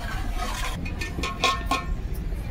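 Boiled hot water poured into semolina roasted in ghee, sputtering in short hissing bursts with a few light clinks of the pan, close and fairly loud, with no talking.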